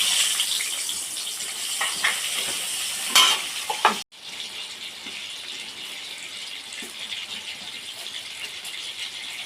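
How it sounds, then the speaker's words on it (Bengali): Onion dropped into hot oil left over from frying koi fish gives a loud, close sizzle with some rattling; a sharp break partway through, then a steady, softer frying hiss continues. "তেলে পেঁয়াজ দিয়ে দেবো।"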